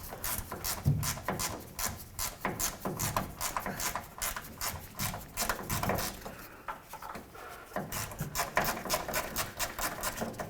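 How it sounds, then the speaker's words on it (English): A 13mm ratchet wrench backs a bolt out of a 1988-2000 Chevy C/K1500 during fuel tank work, giving rapid bursts of close, rhythmic clicking with short pauses between strokes. "Now I'm going to use a 13mm ratchet wrench"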